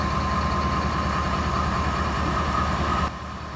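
Amtrak 511 yard switching locomotive idling steadily after start-up, a constant loud low diesel drone with a steady mid hum, dropping slightly in level near the end.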